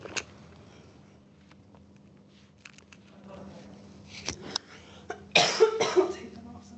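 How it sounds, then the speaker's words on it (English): A person coughs close into a microphone at a digital marketing session, a couple of sharp bursts near the end following a quiet stretch of faint room noise and small handling sounds. "I'm coughing into the mic."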